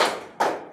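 A class doing a rhythmic spirit clap gives two sharp, close claps about half a second apart, each one quickly fading.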